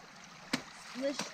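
Feet splashing through a creek while wading on a redwood forest trail in California, with two short, sharp splashes over a quiet background and a faint voice nearby.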